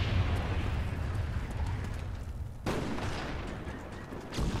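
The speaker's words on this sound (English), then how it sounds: "Friendly napalm strike on the way." A friendly napalm strike in Black Ops 1 lands as a sustained, loud roaring rumble of fire and blasts, with a sharp new burst midway and another swell at the end.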